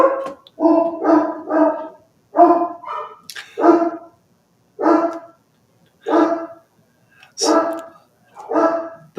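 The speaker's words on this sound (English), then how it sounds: "The dogs are awfully excited today." Several excited dogs bark repeatedly in close, loud bursts with short pauses between volleys, with no talking over them.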